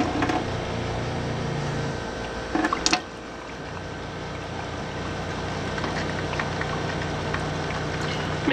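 Water runs steadily from a sink tap on a sailboat in a continuous hiss and splash, with a brief clatter near the start, nobody speaking.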